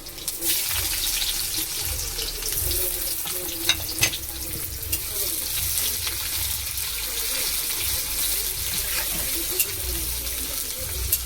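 Chopped onion goes into garlic frying in oil in a pan, a steady loud hissing sizzle with faint clinks and stirring sounds running throughout, with no talking.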